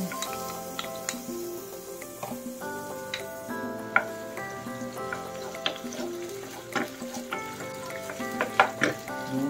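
Onions sauté in hot vegetable oil with a soft, continuous sizzle and occasional spatula clicks, heard under moderate background music.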